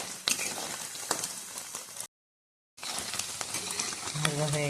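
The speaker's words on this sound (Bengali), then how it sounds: "আর একটু ভেজে নামিয়ে নেব" Paneer pieces browning in hot oil, a steady crackling sizzle with a brief gap of silence midway, then louder frying with a tonal hum near the end.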